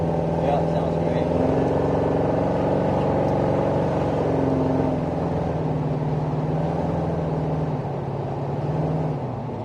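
A 1968 Chevrolet Chevelle V8 idles and burbles through its newly fitted exhaust, a steady deep rumble with slight swells throughout, while people talk over it.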